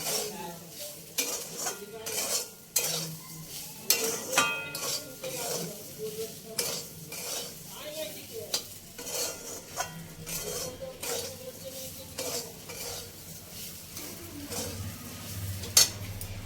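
Semolina (suji) and sugar are stirred in a pan with a spoon scraping and clinking against the metal, a rapid, uneven rhythm of strokes over a soft sizzle, close and moderately loud.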